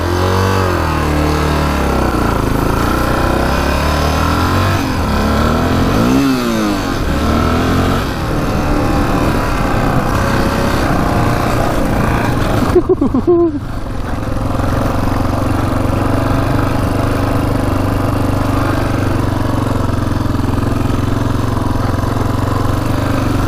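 A rare Honda 500cc motorcycle engine, long unused, starts and runs loud and close, with a brief rev surge midway before it settles into a steady, throaty idle.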